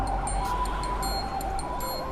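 Ambulance siren wailing continuously with rising and falling sweeps, steady and fairly loud over a background rumble, no voices.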